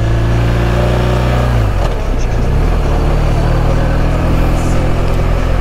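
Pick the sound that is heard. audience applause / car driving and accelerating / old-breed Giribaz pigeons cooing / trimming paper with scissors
car driving and accelerating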